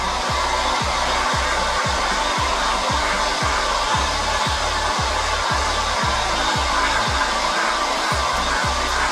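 A hair dryer blows steadily on the front face of a repaired, restretched canvas picture, a loud continuous broadband whoosh with a rhythmic low motor pulsing underneath throughout, no voices.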